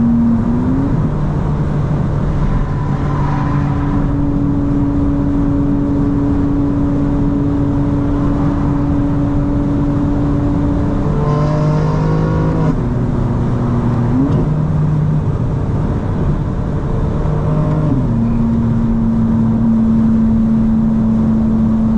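A modded 2025 BMW M4 CS engine drones steadily from inside the cabin, its pitch stepping up and down several times through shifts, with a constant loud road and engine roar underneath.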